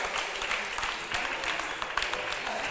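Brief burst of applause from onlookers at a squash club finals after a terrific shot, steady clapping at moderate level with no talk.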